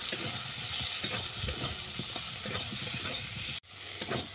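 Green and dried chillies and vegetables fry in a pan for a bitter puti fish chorchori, a close, even sizzle with repeated stirring scrapes that cuts out briefly near the end.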